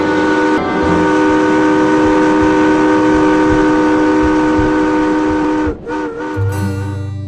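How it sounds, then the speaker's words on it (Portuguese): The steam whistle of the Benjamin Guimarães riverboat gives one long, loud, steady harmonic blast that cuts off near the end, followed by a brief wavering tail and some lower rumble. "Quando ao longe se ouviu o apito do Benjamin Guimarães"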